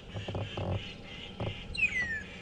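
A Burchell's starling squawks at dawn on an African safari drive, with a few rough, low calls early on and a thin, high whistled note near the end, all faint against quiet ambience.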